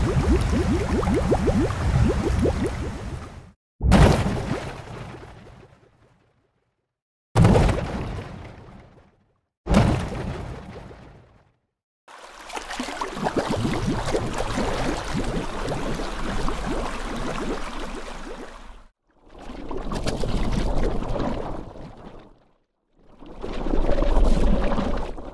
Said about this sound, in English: let me quickly show you what sounds you can get with a vocoder and an envelope follower